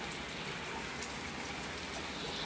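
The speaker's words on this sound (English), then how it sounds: "Oh, it's raining in here." Rain falling inside a house through a leak, a steady even patter and hiss on indoor surfaces with no let-up, fairly close and alone.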